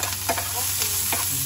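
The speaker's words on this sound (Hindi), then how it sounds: "मैं अब इसमें अनियन डाल देती हूँ क्योंकि ऑलरेडी पैन गर्म हो चुका था" Chopped onion and green chili frying and being stirred in a hot pan, giving a loud, continuous sizzle with soft scraping strokes over about a second and a half.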